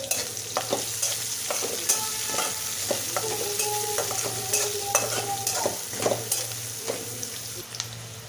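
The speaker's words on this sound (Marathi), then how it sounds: "कांदा कांदा दोन मिनटं फरकून घ्यायचा" Onion sautéing in a pan with asafoetida, a constant sizzle under brisk, repeated scraping and clinking of a spoon stirring close up, with a low steady hum behind and no talk.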